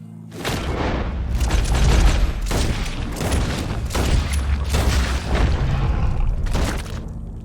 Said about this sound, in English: He shot the thing!